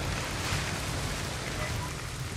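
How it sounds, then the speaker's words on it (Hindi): Steady, dense rain hisses without a break, a continuous wash of patter from start to finish, rain in the video game Days Gone mixed with real rain outside. "बाहर से भी बारिश की आवाज आ रही है और यहाँ पर तो बारिश है ही।"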